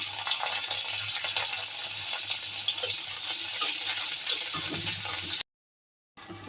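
Chapa shutki, dried fish, sizzles steadily in hot oil in a kadai, a dense close frying hiss that runs unbroken for about five seconds, drops to a brief silence, then resumes.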